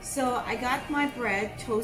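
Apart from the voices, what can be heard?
No everyday noises stand out.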